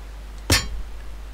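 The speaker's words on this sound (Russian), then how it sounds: "Отличный удар по стеклу был." A glass vase shatters under a hammer blow in the video game Where Is My Hammer, one sharp, loud crash with a bright ringing burst that falls away quickly, then a faint rattle of debris.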